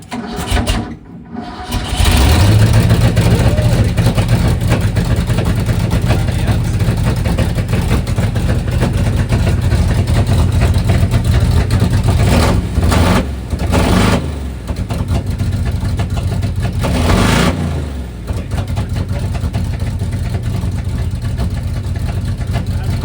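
A Ford Fox body car starts up after years unused, its engine catching with a loud crank and settling into a steady, rough idle with a couple of revs, close by and dominant throughout.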